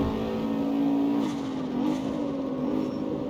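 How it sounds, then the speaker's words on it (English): Car in the CarX Street racing game accelerating slowly in fourth gear, a steady loud engine drone whose pitch climbs and dips slightly, with no talk. "you can see how slow I'm kind of accelerating in fourth gear"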